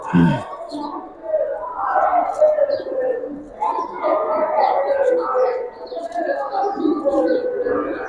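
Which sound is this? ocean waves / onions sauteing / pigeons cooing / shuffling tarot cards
pigeons cooing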